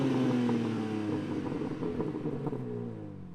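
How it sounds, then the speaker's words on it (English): A 2021 BMW M3 Competition engine held at a steady, fairly loud idle-to-rev drone, then easing off slightly. It is heard alone with no talk. "now let's rev it and go for a drive"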